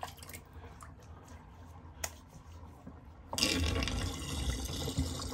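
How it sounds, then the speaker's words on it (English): A bathroom sink empties after shaving, starting with a few faint drips and clicks, then a sudden louder rush and gurgle of water flowing down the drain that continues steadily to the end. "Let's empty good old Sigmund the Sea Monster sink."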